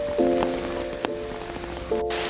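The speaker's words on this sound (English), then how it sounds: "I love rain drumming on tin roof." Rain drums on a tin roof in a steady, moderately quiet patter, with a few sharper taps and a sustained tonal hum running beneath it.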